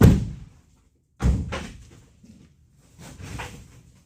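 Doors of a Chevrolet Lumina car being shut: a loud thud at the start, a second close slam about a second later, then a softer third shut toward the end, with quiet pauses between.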